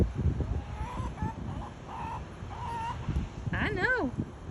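A hen clucking in a backyard alongside ducks, a few short close calls and a rising squawk near the end, with someone talking over much of it.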